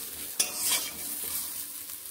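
Moringa drumstick pieces frying in a pan for a red lentil dish, giving a steady close sizzle with one brief stirring clatter near the start.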